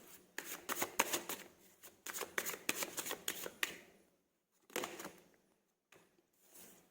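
A deck of tarot cards is shuffled and drawn in quiet, close bursts of riffling and flicking, broken by short pauses and a few lone card snaps.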